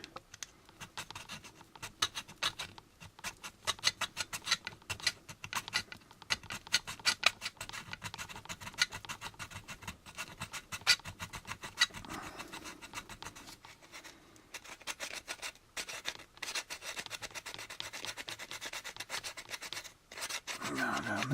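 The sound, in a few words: hand file cross sanding a plastic model kit part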